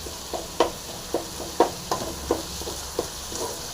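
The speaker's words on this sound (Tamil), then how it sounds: "அதையும் சேர்த்து நல்லா ஃப்ரை பண்ணிக்கலாம் நல்லா வதக்கலாம்" Ginger and spices sauté in a pan for kuppaimeni herbal soup, a continuous sizzle broken by regular stirring taps from a spoon against the pan.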